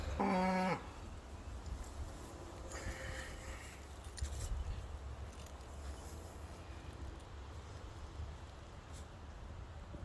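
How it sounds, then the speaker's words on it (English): A single cow moos briefly at the start, then a long stretch of quiet outdoor farm ambience with faint distant noises. "And the cows that are renting space are still here."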